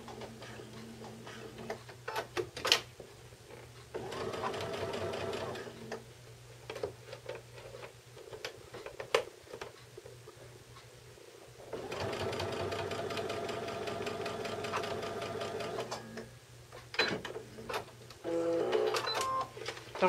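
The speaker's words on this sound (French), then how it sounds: "je peux aller coudre d'un coin à l'autre à ma machine à coudre avec le pied quart de pouce" Home sewing machine stitching a quilt binding with a quarter-inch foot, bursts of rapid mechanical ticking and whirring separated by short pauses, close and fairly quiet with no talk.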